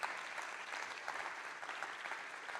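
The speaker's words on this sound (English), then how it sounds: "Let's give her an applause." A conference audience at the National Urban Health Conference gives steady, even applause that stays fairly quiet throughout, with no voices rising above the clapping.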